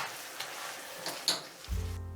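Chicken in sauce with green onion and cilantro is stirred in a pan, giving a soft, faint sizzle with a few light scrapes, followed by a short low hum at the end.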